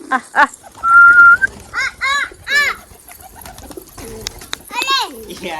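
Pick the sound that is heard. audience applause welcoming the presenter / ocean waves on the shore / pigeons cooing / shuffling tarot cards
pigeons cooing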